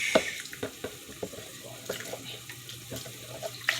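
Water runs and splashes steadily from a tap into a pot for Jamaican banana and plantain porridge, with small knocks and clinks of cookware nearby; no one speaks.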